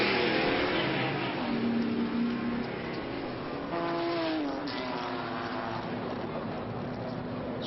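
Race cars circling a track during a historic Graham Hill Trophy race, with the lead AC Cobra pulling into the pits; a steady, fairly distant engine drone runs throughout, with a brief rising engine pitch partway through.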